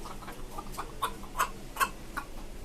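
Native hens cluck in a coop, a run of soft, rhythmic clucks with several sharper, louder calls standing out near the middle, heard at close range without talk.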